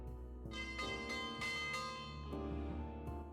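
Lunch bell ringing aboard the steamer in the Death on the Nile detective game, a resonant chiming bell struck several times in quick succession with long sustained metallic overtones ringing out, loud and close over a low musical hum.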